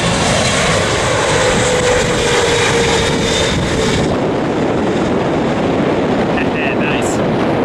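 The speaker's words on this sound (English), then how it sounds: "China cargo plane." China cargo plane on approach to land at LAX, heavy continuous engine rumble and roar that eases slightly midway, with brief talk over it.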